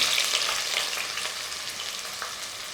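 Sliced onions, cinnamon and green chilies fry in oil for mutton biryani, a dense, even, hissing sizzle close by with faint crackles, heard alone without speech.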